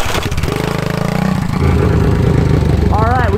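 A rare Honda ST90 motorcycle with a big bore swap sputters into life after a push start, its small engine chugging rough and loud up close, with a voice briefly heard near the end.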